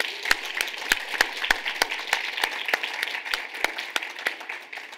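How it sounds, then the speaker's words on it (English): Sparse, scattered applause from a conference audience thanking the speakers, individual claps standing out as distinct sharp hits, moderately close and with no talk over it. "Can we give them a round of applause?"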